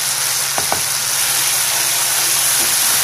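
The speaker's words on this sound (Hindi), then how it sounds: "अब हम इसमें ये नमक मिर्च और हल्दी डाल देते हैं।" Salt, chili and turmeric with masala sizzle in hot oil as a steady, close frying hiss, with a couple of faint utensil taps near the start.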